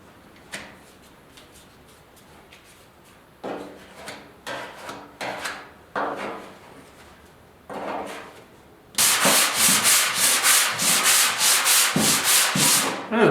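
A 1972 Ford F100 4x4 truck panel is block sanded by hand with 80 grit sandpaper, first in short scattered strokes, then in a run of loud, rhythmic back-and-forth scraping close by.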